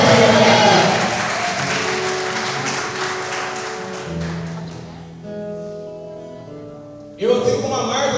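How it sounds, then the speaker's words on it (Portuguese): A Catholic church congregation applauds loudly, the clapping fading under a sustained musical tone before a fresh burst of noise at the end. "dá um glória a Deus bem alto e aplauda o Senhor que está aqui"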